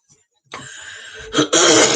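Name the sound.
throat clearing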